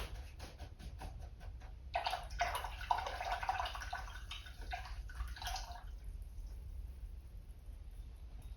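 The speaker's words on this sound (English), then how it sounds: "rinse my brush out, and I'm just going to go right in the middle and pull off some of that paint" A paintbrush swishes in a water cup during an acrylic landscape painting session, giving a soft, close splashing and dribbling of water for a few seconds, alone and fairly quiet.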